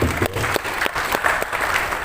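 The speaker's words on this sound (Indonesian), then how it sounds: "Tepuk tangan untuk kita semua." Applause from a community discussion group audience, brief and loud, with clustered claps and crowd voices mixed in.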